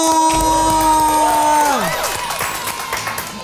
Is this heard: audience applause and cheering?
yes